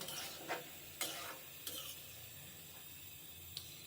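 Spiced chickpeas fry quietly in a pan while hot water is poured in, giving a low sizzle with a few sharp bursts of hiss and splashing, faint and without any talking.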